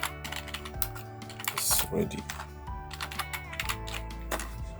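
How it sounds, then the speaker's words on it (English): Fast typing on a computer keyboard, with rapid clicking keystrokes in close, steady bursts under a voice speaking briefly. "So let's start typing in our text."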